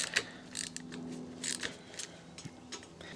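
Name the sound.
Torx T27 screw loosened on Harley-Davidson Low Rider ST fender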